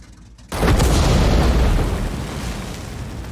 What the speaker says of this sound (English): And that was a shell landing behind me